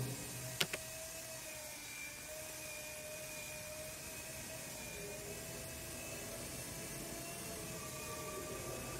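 An electric mixing machine stirs wall putty for house painting, giving a steady, loud motorized drone with a constant whine that holds throughout, after a couple of sharp clicks near the start; no one speaks.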